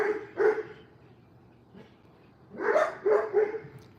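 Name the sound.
dog barking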